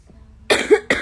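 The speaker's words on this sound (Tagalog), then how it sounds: "Sorry, may ubo ako." After a near-silent moment, a person gives a sharp close cough followed by a second quick cough, loud and with no speech around it.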